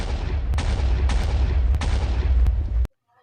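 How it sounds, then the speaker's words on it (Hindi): Explosions in a video game world set upon by invading dinosaurs boom in a dense, loud series of blasts with sharp cracks, then stop abruptly into silence. "धमाका ख़त्म।"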